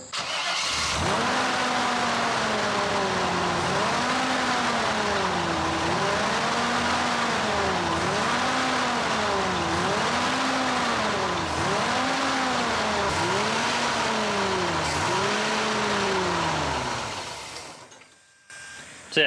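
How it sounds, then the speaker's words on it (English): Corvette Stingray engine held running on the gas pedal, revving in a slow repeated rise and fall of about eight swells, close and steady, before cutting out near the end. "So yeah, that's with him giving it gas. We could keep it running, but as soon as we let go of that gas pedal, it just wants to die."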